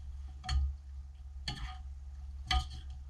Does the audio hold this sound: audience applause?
no